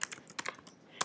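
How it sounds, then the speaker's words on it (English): Someone types on a computer keyboard in a quick burst of about eight crisp, close key clicks with uneven spacing, heard alone in a quiet room. "say I want to type something"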